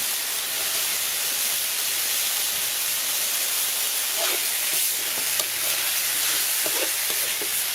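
Steady sizzling hiss of noodles stir-frying dry in a large wok, with occasional scraping clicks of stirring, continuous throughout with no voices.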